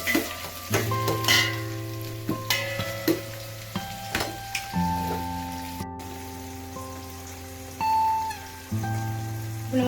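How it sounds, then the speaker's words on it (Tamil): Onions and green chilies sauté in hot oil for chicken biryani, a steady close sizzle broken by spoon scrapes and stirring clinks through the pan. "வெங்காயம் லைட்டாக கொஞ்சமாக ஆயிடுச்சு. இது கொஞ்சம் நேரம் நல்லா வதங்கட்டும்."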